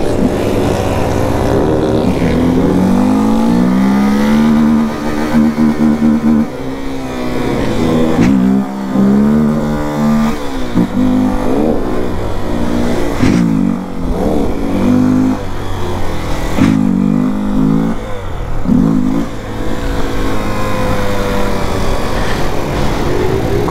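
Several Honda XRE 300 motorcycles with no air filter ride together at night, engines loud and close with rising and falling revs, gear changes and throttle blips running throughout.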